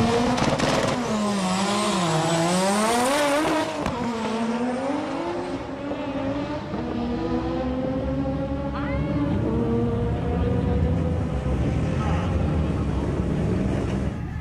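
Turbocharged Mazda RX-7s with matching body kits race at a street drag event, engines revving loud and close with a rising, shifting whine, then fading into a sustained roar of cars as they pull away.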